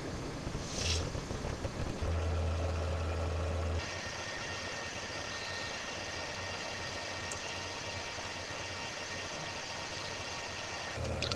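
A Banner Easy-Lam laminator with its motor switched on, giving a steady close mechanical hum and whir that holds evenly throughout, with a louder low rumble in the first few seconds.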